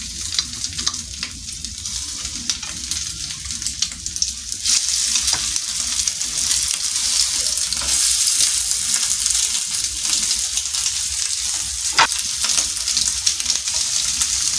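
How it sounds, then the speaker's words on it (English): Homemade meatballs dropped into hot oil in a pan set off a loud, sustained crackling sizzle that swells after the first few seconds and holds steady, with a few sharp pops and no talking. "Mafuta imeheat vizuri, so we are going to be putting our meatballs kwa pan so that we can fry them."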